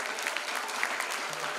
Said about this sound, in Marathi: जोरदार टाळ्या थांबल्या नाही पाहिजेत आपल्या सरांसाठी